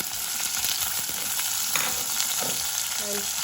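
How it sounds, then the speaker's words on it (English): Onions sizzle and fry steadily in a hot pan, with a few stirring scrapes and clinks near the end, while cooking tomato rice. "While onions are frying,"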